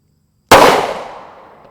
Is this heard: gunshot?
yes